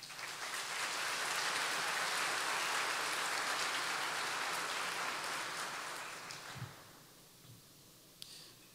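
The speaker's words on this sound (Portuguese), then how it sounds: "Você pode dar um aplauso ao Senhor?" A church congregation breaks into sustained applause for the Lord, a dense wash of clapping that swells and then fades away, leaving a few scattered sounds.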